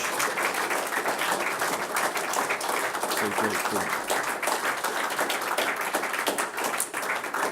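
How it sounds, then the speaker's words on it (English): An audience gives a round of applause after a lecture, a dense and continuous wash of clapping that is steady and fairly loud, with voices faintly underneath. "please would you give Tony a really, really big round of applause for an absolutely magnificent lecture"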